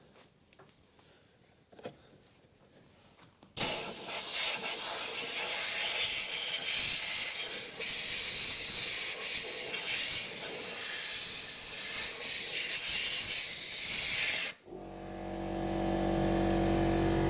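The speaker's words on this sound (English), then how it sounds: "I'm just going to use the airline here to blow them out." Compressed air line blasting debris out of the air filter housing of a 2009 VW Beetle 1.4 petrol, a loud sustained roaring hiss for about eleven seconds after a quiet start, cutting off abruptly before a second rush of air.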